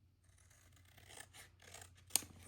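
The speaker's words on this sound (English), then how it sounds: "I'm going to take my scissors," Scissors trim a paper library card in a few soft, close snips, with a single crisp cut standing out near the end against a quiet low hum.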